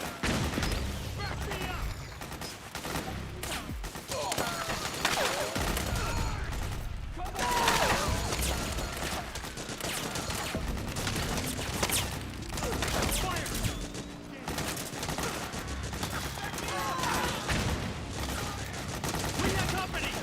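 Sustained suppressing gunfire in Metal Gear Solid 4 rattles almost without a break, dense automatic bursts with mechanical clanks and creaks, while shouted voices cut through the battle.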